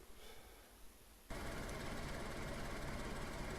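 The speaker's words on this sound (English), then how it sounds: "So if we start the engine" An offroad vehicle in the video game DayZ, quiet at first, then the engine starts abruptly and settles into a loud, steady idle that continues to the end.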